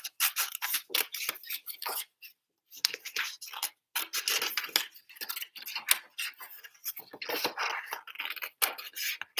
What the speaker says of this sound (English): I'm just going to cut it across so I can get to it